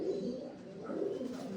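Andhra pigeons coo softly nearby, a low throaty burbling that repeats without pause over the short moment, with no voices.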